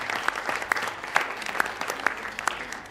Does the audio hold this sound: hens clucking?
no